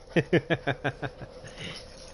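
A pet dog gives a rapid run of about seven short, strained whimpering wheezes, evenly spaced and fading, then trails into softer breathy noise.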